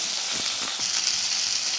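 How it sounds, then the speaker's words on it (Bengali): Diced potatoes frying in a cumin tempering, a steady close hiss and sizzle of hot oil with faint stirring scrapes, no voices. "তো এই আলুগুলোকে আমি এই ফোড়নটার মধ্যে দেবো, দিয়ে আলুগুলোকে ভেজে নেব।"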